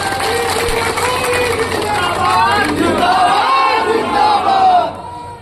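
A large crowd roars and shouts continuously at an election rally for an independent candidate, a loud, dense wall of voices swelling toward the end before cutting off abruptly.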